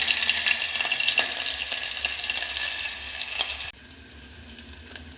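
Chopped ingredients including ginger stirred with a ladle in a pan, a loud, steady sizzling fry with scraping stir strokes throughout, dropping abruptly quieter near the end.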